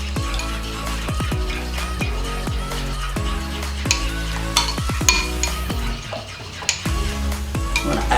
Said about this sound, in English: You're gonna mix the yogurt first, so no lumps and anything there.